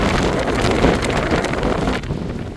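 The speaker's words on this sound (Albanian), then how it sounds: "Është ka fryn" Strong wind buffets the microphone in a steady, loud rumble outdoors during village clean-up work in Krushë e Madhe, easing slightly near the end.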